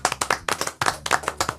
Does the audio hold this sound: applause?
yes